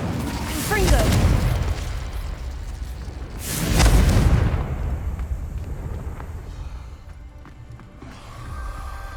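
A Confringo blasting spell explodes in the Hogwarts Legacy video game, with two loud booming blasts a few seconds apart, each rolling off into a rumbling tail, set against game ambience.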